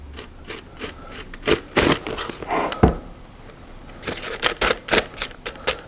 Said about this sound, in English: I'm going to simply take a knife and cut a cross in it for the time being